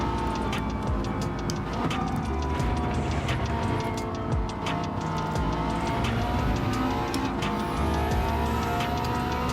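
Subaru STI race car in Gran Turismo 7 drones steadily with a continuous engine tone, tire and skid noises and small ticking clicks, evenly loud throughout with no voices.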